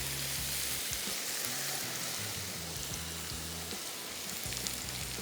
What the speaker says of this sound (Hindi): अब सबसे पहले इसमें शामिल करेंगे चॉप किया हुआ लहसुन, और थोड़ा ज़्यादा है, 3 खाने के चम्मच। इसको हल्का सा करेंगे फ्राई।